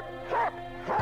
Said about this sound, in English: Let's follow the dog.